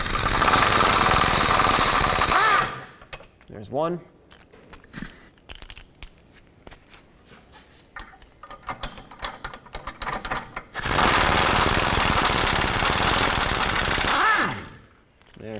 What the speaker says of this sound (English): Let's get the 2 13mm nuts off that hold the bracket onto the exhaust.